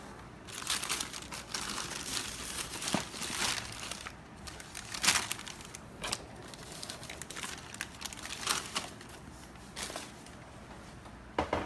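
White tissue paper printed with gray stars, packed in a sneaker box for Jordan 1 shoes, crinkles and rustles in quiet, irregular bursts of crisp crackling handled close up, with no talking.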